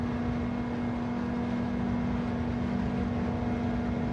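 A Nissan GTR 99 engine in Gran Turismo 7 drones at high revs, a steady loud mechanical hum with a sustained whining tone that barely varies in pitch throughout, with no talking.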